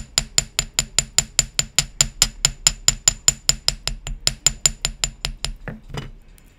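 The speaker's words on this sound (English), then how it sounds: "you can fix pretty much anything just by hammering it a little bit more in the correct places" A hammer strikes a wire bangle bracelet in a fast, steady series of about thirty sharp metallic taps, close and loud, slowing and stopping near the end with no talk.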